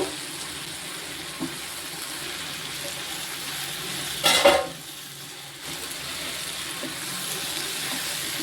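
Seedless tomatoes frying with vegetables for ragi khichdi, a steady soft sizzle with one brief louder burst of stirring or scraping partway through.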